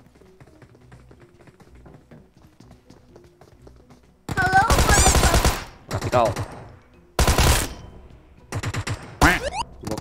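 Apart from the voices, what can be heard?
gunfire in video game PUBG Mobile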